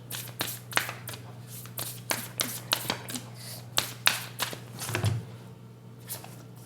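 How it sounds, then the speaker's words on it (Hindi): Tarot cards being shuffled and handled close by, a run of quick papery flicks and taps in an irregular rhythm over a low steady hum, fairly quiet. "अब हम आपके टैरो कार्ड्स भी ले लेते हैं।"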